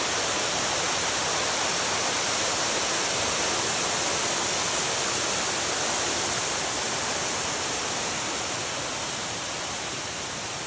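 Water pours down steadily over rocks by moss and a dead tree in the Smoky Mountains. The rush is loud, close and constant, a broad hiss that fills the whole clip with no voices.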